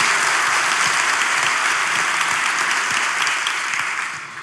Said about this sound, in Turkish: Alkışlayalım arkadaşlar